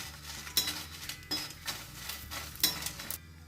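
Dried red chillies frying in oil in a pan for temple-style tamarind rice, a soft crackling sizzle broken by several sharp metallic scrapes and clinks of a utensil against the pan, with no talking.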